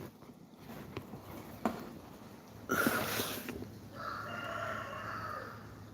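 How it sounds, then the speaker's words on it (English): A rooster crows in the distance, a single faint call rising briefly over outdoor background noise, with no speech. "There's the other rooster."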